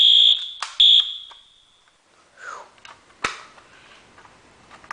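A loud, piercing Wheelock AS fire alarm horn, triggered by a Fire-Lite BG-10 pull station, blasts in two short bursts on low volume, then stops, leaving rustling, handling noises and a sharp click nearby.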